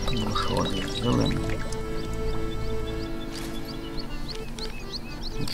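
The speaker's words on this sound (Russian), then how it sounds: "Больше воды сделаем." Water pours steadily in the Russian Village Simulator video game, a continuous watery splash layered over busy game ambience with birdlike chirps, no talking.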